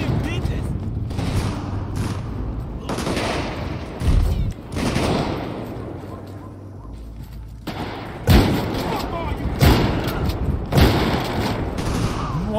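Several loud, sharp shotgun blasts in GTA V ring out amid chaotic zombie-mode combat noise, spaced irregularly with a few heavy booms close together.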